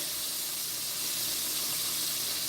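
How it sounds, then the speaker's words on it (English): Chicken wings fry in hot oil, producing a steady, even sizzle and hiss that runs without a break throughout. "Aunt Bernardo, I am actually frying some chicken wings for my hubby"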